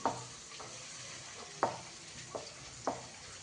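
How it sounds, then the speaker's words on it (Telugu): Onions frying in a pan for chicken curry give a quiet, steady sizzle, broken by a few sharp spoon-scraping stirs spaced about a second apart. "కొంచెం ఫ్రై అయిపోయాయండి ఆనియన్స్"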